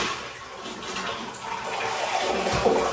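A toilet flushes in a newly renovated semi-rustic vintage-style bathroom, a steady rushing wash of water that runs close and fairly loud for about three seconds, with a slight surge near the end.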